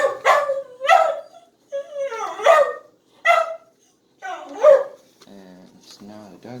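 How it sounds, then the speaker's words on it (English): A dog barks repeatedly, close and loud, sharp yappy barks coming in quick bursts, and a voice talks over part of it near the end. "And now the dog barks more."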